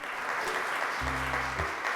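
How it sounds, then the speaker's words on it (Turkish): A studio audience at a children's TV show claps for a young contestant, continuous full applause with a brief hum of background tones partway through. "ilk arkadaşım Alperen'i alkışlarla çağırıyorum"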